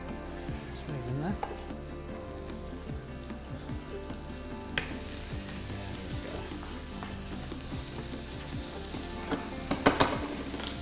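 Peppers fry in a hot pan for a chili with minced meat and kidney beans, giving a steady close sizzle broken by scraping stirs and clacks of the utensil, with no talking.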